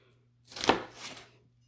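A single quick knife stroke dicing an onion on a cutting board, a short dry crunch in an otherwise quiet room.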